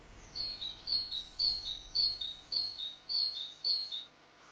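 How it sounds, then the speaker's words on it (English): A male great tit calls in woodland, repeating a clear two-note "teacher" phrase about seven times in a steady rhythm, fairly close and distinct against a quiet background. "The call of a male great tit is one of the easiest to recognise"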